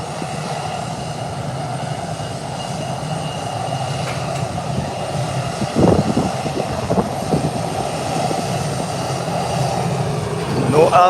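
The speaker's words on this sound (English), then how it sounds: "I love the sound of the Brazilian engines." Brazilian-made aircraft engines roar steadily as the plane takes off, loud and continuous, with the noise swelling slightly near the end and faint voices in the background.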